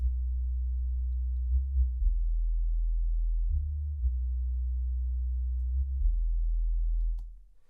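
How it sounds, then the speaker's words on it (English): A pure sine-wave bass synth built in Reaktor plays alone, a deep, smooth low tone holding sustained notes that shift pitch a few times before fading at the end. "that's literally just my sine wave, the same as the kick"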